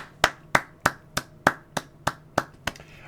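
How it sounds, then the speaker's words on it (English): About nine sharp hand claps in a steady, evenly spaced rhythm, close and crisp with no voices. "I'm going to stand up and give you a standing applause"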